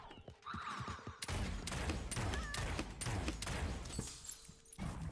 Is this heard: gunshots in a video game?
yes